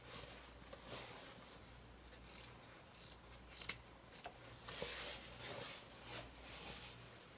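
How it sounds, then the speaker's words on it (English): Scissors snip through the fabric corners of a sewn microwave potato bag, a series of soft, close crisp cuts over a quiet room hum. "So snip the corners and then turn it right sides out."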